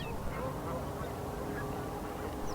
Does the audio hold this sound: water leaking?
no